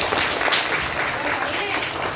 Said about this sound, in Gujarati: તાળી પાડો તો ભાઈ